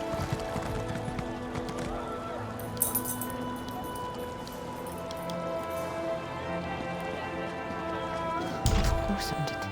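Horse hooves clip-clop in The Elder Scrolls Online, a steady rhythmic trotting under game music and ambience, with a louder thump and burst near the end as the rider stops.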